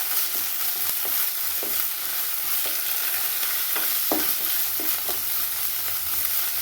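Cooked white beans fry in coconut oil with a steady bright sizzle, punctuated by repeated clicks and scrapes of a spoon stirring the pan, close up with no voices.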